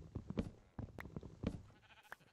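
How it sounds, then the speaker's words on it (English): Sheep bleating in Minecraft, a few short bleats over a busy game soundscape with footsteps and block-breaking sounds, moderately loud and close. "Plenty of sheep, that's good."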